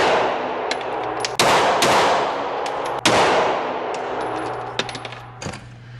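Suppressed FNX 45 pistol shots at an outdoor range: several sharp, muffled reports spaced irregularly over a steady roar of wind, with faint metallic clinks of brass landing between them.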